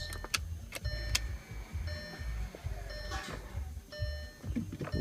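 A VW or Audi electronic parking brake is cycled on and off after a rear brake job, with short motor whirs in the car and a few repeated electronic chime tones from the dashboard.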